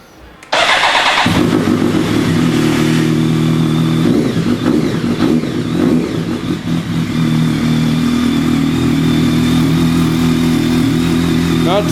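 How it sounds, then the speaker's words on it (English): A BMW K1200S motorcycle with an unbaffled Remus PowerCone exhaust cranks and fires up after a brief starter whir, then settles into a loud, close, raspy idle with a few quick throttle blips partway through. "here's the K12s with the Remus PowerCone, which does not have a baffle."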